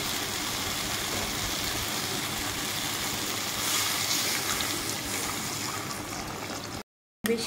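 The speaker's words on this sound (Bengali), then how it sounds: "তো আমি এখানে ফুটন্ত গরম জল আমি অ্যাড করব।" Boiling hot water poured into a pan of aloo paneer curry with spice-fried paneer, a steady watery rush and sizzle running continuously at moderate level, cutting off briefly near the end.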